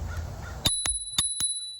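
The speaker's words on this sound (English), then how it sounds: "now it's time for me to ring my little bell" A small handlebar bell on a Hiboy S2 Pro electric scooter rings four quick bright dings in under a second, clear over faint outdoor road noise.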